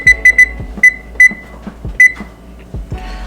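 Kitchen oven control panel beeping as the temperature is set to 350 degrees Fahrenheit and a 17-minute timer is entered, with a series of short sharp beeps in uneven taps among soft button clicks, close and loud.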